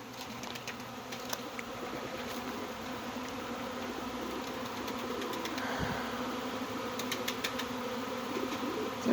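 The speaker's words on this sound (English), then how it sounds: "Bees are really interesting creatures, and they try to match the size of the hive up with the size of the swarm." A swarm of honey bees hums steadily outdoors, a dense continuous drone with individual bees zipping close past, no talking.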